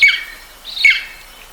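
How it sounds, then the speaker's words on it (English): Golden eagle call played back, two harsh, high squawking cries about three quarters of a second apart, fairly loud and clear. "That one is a golden eagle."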